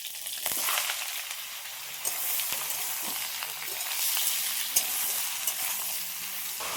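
Bottle gourd tipped into hot oil already holding five-spice seeds, mustard and torn lemon leaves: a lively, continuous sizzle broken by scraping stirs and a few sharp clatters, with no voice.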